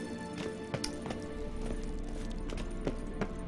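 Kelpie, Geralt's horse in The Witcher 3, gallops with repeated hoof clip-clops over a steady game soundscape, with no talk during the strides.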